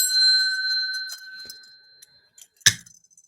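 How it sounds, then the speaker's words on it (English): A small mini bell rings with a clear, bright tone that slowly fades away, followed by faint scattered clicks and a single sharp knock near the end. "Got a little mini bell, too."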